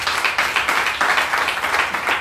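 Dense, steady clapping from a church congregation acclaiming Jesus during a worship service, a loud, continuous wash of many hands close by with no talking over it.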